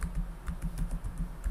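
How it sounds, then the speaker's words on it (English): Quick, light keystrokes on a computer keyboard while typing a web address into a browser, a brief run of soft clicks heard alone and close. "type in the address bar"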